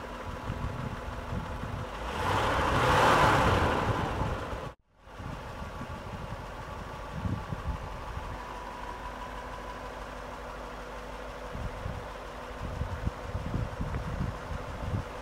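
A 1959 Lincoln Continental convertible engine with a rebuilt carburetor idles steadily and low, after a louder swell of wind or passing noise and a brief cut.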